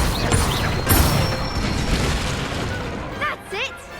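The Incendio fire spell cast in Hogwarts Legacy, a burst with a whooshing flare and mechanical clicking up front, followed by a lingering rumble; a voice speaks near the end.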